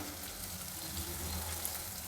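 Steady, crackling sizzle of spices tempering in hot oil for rice, close and continuous with no voices.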